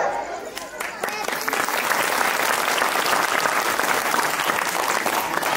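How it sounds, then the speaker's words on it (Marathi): A large crowd at a lecture gathering bursts into applause, quieter at first and then swelling into loud, sustained clapping that fills the space. "सगळ्यांनी टाळ्या वाजवायला सुरुवात केली"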